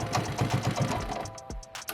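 A go-kart engine running on a small battery setup chugs in a fast, even rhythm at close range, then cuts off abruptly with a thump, leaving scattered clicks.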